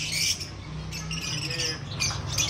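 Pineapple and green-cheek conure parrots squawk at a Sunday bird market, with repeated harsh, shrill calls close by over a low background hum.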